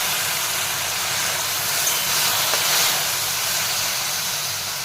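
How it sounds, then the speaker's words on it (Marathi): Water poured onto a hot tempering of oil and spices while cooking kande poha, producing a loud, steady, broadband sizzle and hiss that holds almost unchanged throughout, close up with no voices. "फोडणीवर पाणी घातल्यानंतर ती ते पाणी आहे ना छान असं फोडणीसोबत आपल्याला उकळून घ्यायचं आहे"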